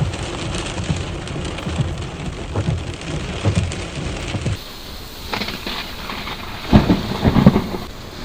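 Heavy rain pours steadily on a surface during a storm, with low rumbles of thunder rolling underneath and a stronger crack near the end, loud and close with no voices.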